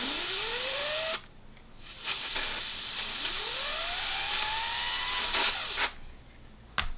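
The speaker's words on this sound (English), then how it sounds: "Now we're gonna use the duster again just to make sure we get all the solvent out of there." A compressed air duster blows solvent out of a small 688 bearing in loud hissing bursts, long blasts separated by brief gaps, while the bearing spins up with a rising whirring tone under the air.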